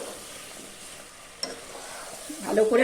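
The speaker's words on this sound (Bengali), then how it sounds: "আলুগুলো দিয়ে আমি কিছুক্ষণ কষে নেব ভালো করে" Potatoes being fried and stirred into a mutton curry, a gentle sizzle with light spoon scrapes, growing busier and louder toward the end, close and without talk.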